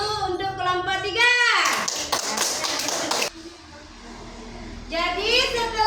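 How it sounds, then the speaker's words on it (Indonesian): A class applauds group 3 in a short burst of hand claps lasting under two seconds, with a teacher speaking just before and after it. "Ya, tepuk tangan dulu untuk kelompok 3."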